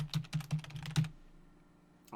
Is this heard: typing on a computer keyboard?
yes